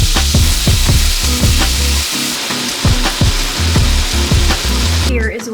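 Steak sears loudly in avocado oil in a hot pan, a steady close sizzle with repeated rhythmic clanks and scrapes of a utensil against the pan throughout.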